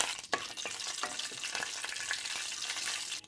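Mustard-type tempering seeds and curry leaves sizzle and crackle in hot oil, a dense steady frying hiss with small pops throughout, close up and fairly loud, no voices.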